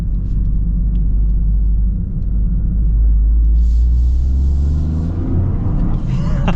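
A 2024 Toyota GR Corolla driving in a rear-biased all-wheel-drive setting, its engine and exhaust giving a loud, deep, steady rumble from inside the cabin that rises slightly midway.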